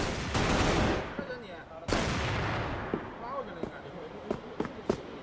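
Gunfire in the video game CrossFire during a pro league match on the Sub Base map: repeated sharp shots and heavy bursts, some loud and close, others scattered and lighter, with a voice talking over them.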